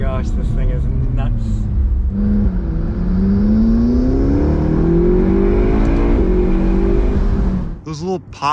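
A McLaren 650S, fire-damaged and recently revived after sitting for three years, revs hard through rising gears with small pops on each shift, loud and close, while voices talk over it.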